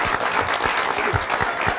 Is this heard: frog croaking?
no